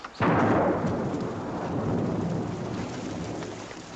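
A sharp thunderclap breaks out, then rolls on into a loud, dense wash of steady rainfall that keeps on without any voices.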